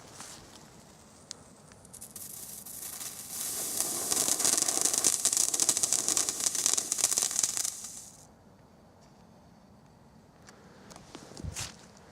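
A Keller Gruselfeuer firework fountain with a crackling effect sprays for several seconds in a steady hissing, crackling burst, then dies away, leaving quiet outdoor background and a faint thump near the end.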